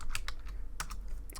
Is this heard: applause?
no